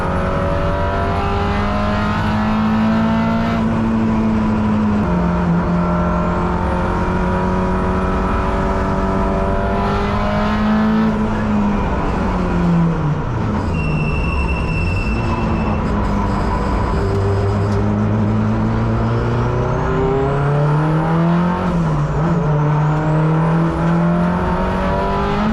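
A Mitsubishi Evo and a Nissan Z lap a race track, engines loud and close, revving and shifting with rising and falling tones, tire and wind noise layered throughout.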